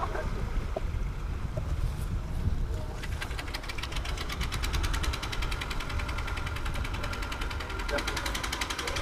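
A pompong boat's engine runs steadily with a rapid knocking putter while the boat parks in Batam, close and continuous.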